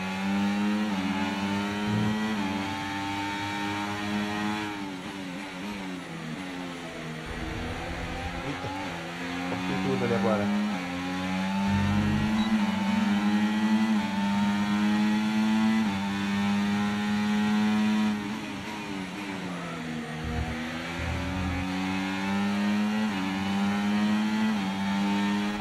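A Formula 1 car engine from the F1 24 racing game at the Canadian Grand Prix whines at high pitch throughout, rising and dropping through gear shifts and revs, with faint game voice over it.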